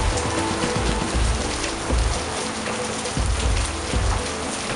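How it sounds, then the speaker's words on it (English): Heavy rain and hail drum on a roof during a thunderstorm, a dense, continuous hiss of downpour broken by irregular heavier thuds and bangs from hailstones. "You can hear the banging on the roof."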